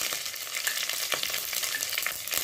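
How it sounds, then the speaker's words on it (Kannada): Mustard seeds, curry leaves and cumin fry in hot oil in a pan, a loud, continuous crackling sizzle with small pops, heard alone and close. "ಪಾನ್ಗೆ ಸ್ವಲ್ಪ ಆಯಿಲ್ ಹಾಕ್ಕೊಂಡಿದ್ದೀನಿ. ಆಯಿಲ್ಗೆ ನೋಡಿ, ಸಾಸಿವೆ, ಕರಿಬೇವು, ಜೀರಿಗೆ 1 ಟೀಸ್ಪೂನ್"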